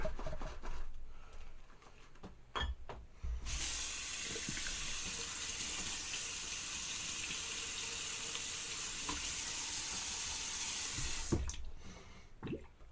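Water from a tap runs steadily into a shaving bowl, a loud even hiss lasting about eight seconds, with small clinks and handling sounds before it starts and after it stops.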